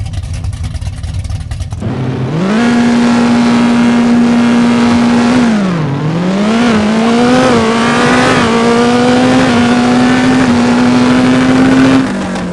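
Drag car in the No Limit Drag Racing 2.0 video game, tuned all-motor, idles loudly, then launches with a rising engine roar that sweeps up through the gears for about ten seconds before cutting off.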